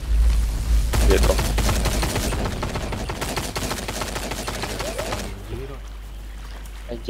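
Rapid bursts of automatic gunfire from The Cycle shooter game crackle in a dense, sustained stream over a low background hum, trailing off near the end, while a player talks underneath.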